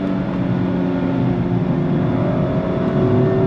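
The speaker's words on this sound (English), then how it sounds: "And then you just let it rev" A 2023 Mazda MX-5 RF Miata's engine revs loudly and close, a sustained steady drone held without a break and heard alone.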